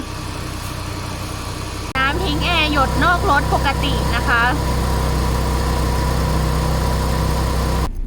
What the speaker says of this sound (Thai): เปิดแอร์นะคะ เสียงเครื่องยนต์ ก็ทำงานได้ปกตินิ่งนะคะไม่มีกระตุกนะคะ